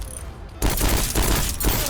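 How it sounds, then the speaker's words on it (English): Heavy gunfire from a big gun in the Voidtrain video game, a loud sustained burst of rapid blasts that starts abruptly and continues in dense pulses with no talk over it. "The moment I bring out the big gun, it literally only takes 2 shots to kill you."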